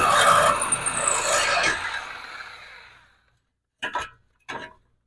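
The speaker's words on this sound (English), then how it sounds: "Alright, so I got this bolt cut out." A bolt cut off an exhaust resonator pipe under a vehicle, a harsh grinding rasp that fades out, followed by two short scraping bursts after a pause.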